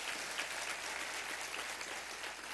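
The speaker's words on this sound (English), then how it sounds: "Let's give him a round of applause," A luncheon audience gives a round of applause: continuous, even clapping from many people in a room, moderately loud and steady throughout with no voices over it.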